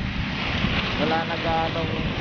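Rough sea at Manila Bay sends a continuous wash of waves and gusting wind buffeting the microphone, loud and close, while a person talks over it.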